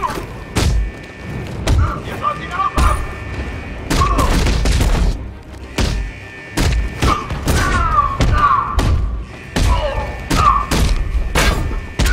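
Gunshots and combat impacts in the video game Batman Arkham Knight come as scattered heavy thuds and bangs in uneven bursts, with a voice talking between them.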